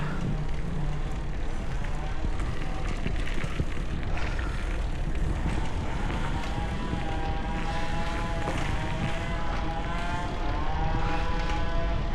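A drone flies over a Casa Mira Homes housing site in Magtuod, Davao City, its steady droning motor whine holding loud and close throughout, with wind buffeting underneath.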